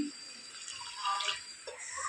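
Hot water is poured onto dry spice masala in a kadhai, a faint, hissing pour with a brief brighter splash in the middle.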